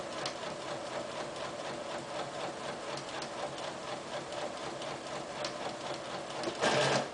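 A sewing machine runs continuously, stitching a neckline facing seam from end to end without backstitching, a steady mechanical whir close by that ends in a brief louder burst.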